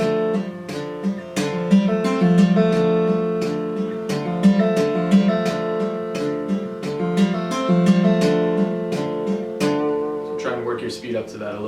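Acoustic guitar strummed briskly in a steady, driving rhythm of repeated chords, close and clear, ending with a few looser plucked notes.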